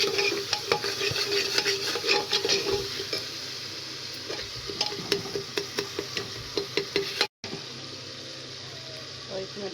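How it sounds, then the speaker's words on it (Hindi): Onion, tomato and green chili masala is stirred and fried in a pan, with a spoon scraping and clinking in quick, repeated strokes over a steady close sizzle that breaks off briefly near the end. "तो ये भून गया मसाला।"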